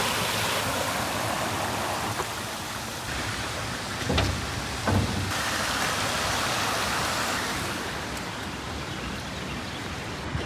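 A small waterfall on a wooded trail rushes in a steady, close, broadband wash of falling water lasting throughout, with a couple of brief thumps and no talk.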